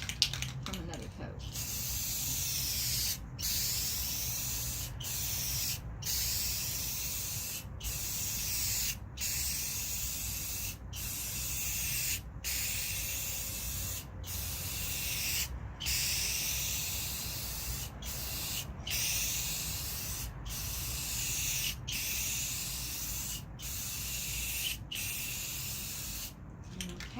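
Rust-Oleum Mirror Effect spray paint hisses from an aerosol can in a long run of steady bursts, each broken by a brief pause, close by and fairly quiet with no talk.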